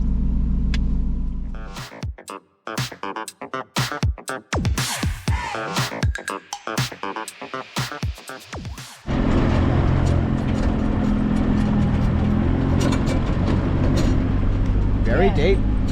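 Vehicle driving slowly along the rough, corrugated Gibb River Road at Pentecost River, a steady loud rumble and rattle after a stretch of speech and knocking, continuous to the end.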